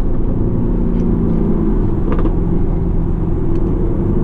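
A Lamborghini Urus engine drones in a low, steady rumble from inside the SUV as the turbo comes in, a continuous throaty hum with no voices.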